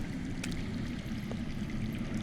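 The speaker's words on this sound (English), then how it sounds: "I hear water. From underground." Underground water flowing in Telltale's Game of Thrones, a steady low rushing and gurgling stream that stays constant and fairly faint, with no other sounds over it.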